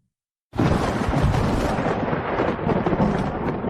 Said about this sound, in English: That night the storm broke with a clap that shook the walls of my room.